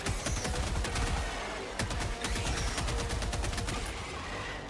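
Rapid volleys of gunfire from the Tenderizer assault rifle in a video game, sharp repeated shots in bursts fired steadily across the whole stretch, loud and close with no talking over them.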